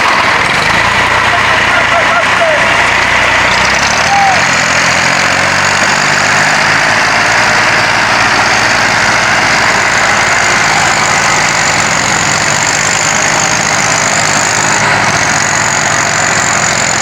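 Heavy tractor engine labouring to pull a stuck trolley loaded with wood out of a ditch. It runs as a loud continuous drone for the whole stretch, and the pitch shifts slightly midway as it strains.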